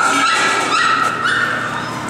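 Puppies and dogs at an animal rescue yip and whimper in high, squeaky bursts, close by and fairly loud, with overlapping little cries throughout.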